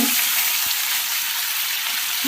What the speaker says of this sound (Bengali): মাছটা আমি ভাজতে দিলাম।